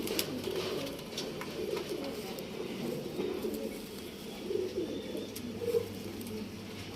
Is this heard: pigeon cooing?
yes